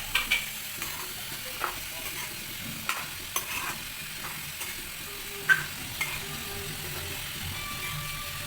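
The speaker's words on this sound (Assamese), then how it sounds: "এতিয়া মই বিলাহী দি দিম, কেইটামান কাটি থোৱা বিলাহীখিনি দি দিম।" Chopped tomatoes stirred into potatoes frying in a pan, with a steady low sizzle and intermittent sharp clinks and scrapes of a utensil against the pan, no voices.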